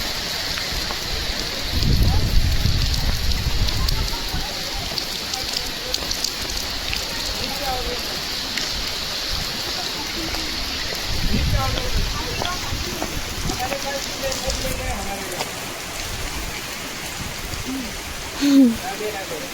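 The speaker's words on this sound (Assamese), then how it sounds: "এইপিনে বৰষুণ দি আছে চাৰিওফালে।" Rain falls steadily all around a temple at Parshuram Kund, a continuous hiss of drops on surfaces with a few heavier gusts, while people talk quietly nearby.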